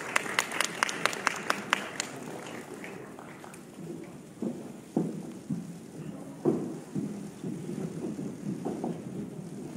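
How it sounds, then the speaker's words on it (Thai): An audience applauding K-pop artists at a Golden Disc Awards press event, a brief burst of crisp clapping at the start that fades into a quieter room with scattered thumps and murmurs. "ขอเสียงปรบมือให้กับศิลปินของเราครับ"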